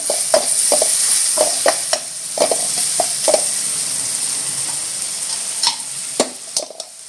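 Masala with tomato and coriander frying in oil, a steady broadband sizzle broken by repeated clacks and scrapes of a spoon stirring the pan, fairly close and moderately loud, with no talking.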